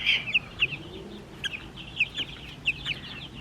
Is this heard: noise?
no